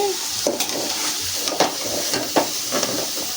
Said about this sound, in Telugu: మళ్ళా ఈ విధంగా గాలాలి, ఎర్రంగా గాలాలి